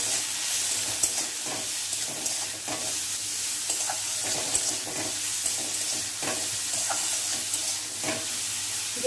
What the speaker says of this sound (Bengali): একটু নুন আর একটু হলুদ দিয়ে নাড়তে হবে।